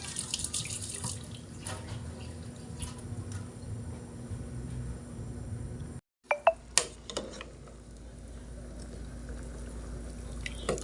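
Tap water runs steadily into a cooking pot while a pork bone stew is being made in a home kitchen. After a brief cut, a few clinks follow and the flow resumes.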